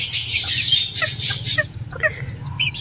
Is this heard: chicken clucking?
yes